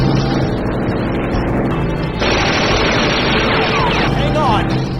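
Rapid aircraft gunfire rattles loudly in an 80s helicopter combat video game, a dense continuous burst mixed with crashing game effects and voices talking over it.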